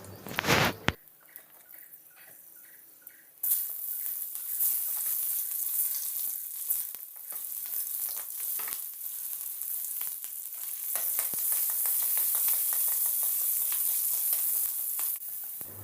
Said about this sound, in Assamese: এতিয়া একেখিনি তেলতে মই ইয়াক ফোৰণ দিলোঁ আৰু এয়া গোটা জিৰা আৰু পিঁয়াজ